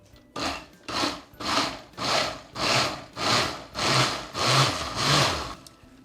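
A blender pulses butternut squash soup with broth in short, repeated bursts, about eight loud whirring pulses in steady rhythm with brief pauses between, close and alone.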